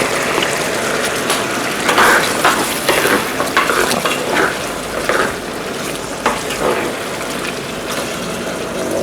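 Canned peas, already cooked, get stirred into a pan of sizzling meat, with steady frying hiss and the scrape of a spoon moving through the pan, close up and continuous.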